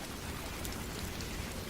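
Torrential rain at night pours in a continuous hissing downpour, even and unbroken, moderately quiet with no voices over it.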